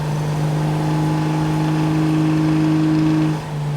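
A naturally aspirated 2JZ engine in a GX81 held at wide-open throttle, loud and sustained with a steady droning tone and carburettor intake roar, easing off slightly at the end.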